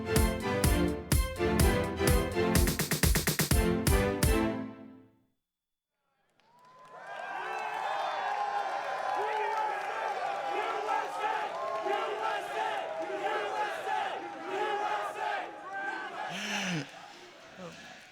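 Crowd at the 2015 Pokemon US National Championships senior video game finals: a few seconds of loud rhythmic music, a short silence, then a sustained roar of cheering and excited shouting.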